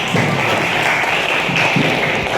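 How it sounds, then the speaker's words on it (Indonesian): Applause from a classroom audience at a teaching session on pollution, a steady dense wash of clapping filling the room, alone without talk. "Tepuk tangan dulu dong ya"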